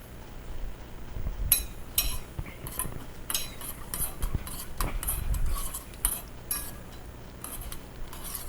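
Metal utensil scrapes and clinks against a pan in an irregular stirring rhythm as cashews roast in ghee, over a soft background sizzle, fairly quiet and close.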